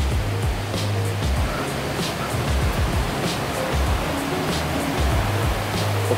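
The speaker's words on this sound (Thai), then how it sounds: "โอ้โหนี่ฮะน้ำตก" Water roars continuously in a dense, steady rush, a waterfall close by in a resort garden in Mae Rim, Chiang Mai, with no pauses and no voices.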